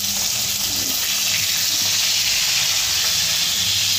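Fish frying in hot oil in a pan, a loud, steady hiss and crackle of sizzling oil that continues unbroken throughout.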